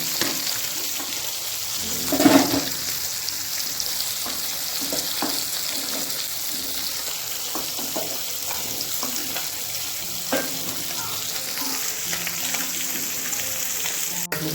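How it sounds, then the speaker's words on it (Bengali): Prawns fry in a pan for a home-cooked Bengali prawn dish, giving off a steady close sizzle and crackle, with occasional louder spatters and stirring knocks breaking through the hiss. "মাছটা ভাজা হচ্ছে।"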